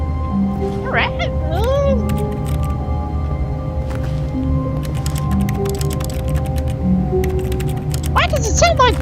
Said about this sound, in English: why does it sound like keyboard sounds?